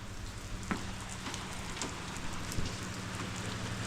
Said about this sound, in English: Boy, it's really coming down this afternoon. Huh. Nice. It's nice to get a little bit of rain.